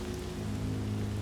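Steady rain on an outdoor city street in the VR zombie game Saints and Sinners, a dense, even hiss with a low hum beneath, continuous and fairly soft with no talking.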